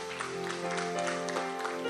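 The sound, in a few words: congregation applauding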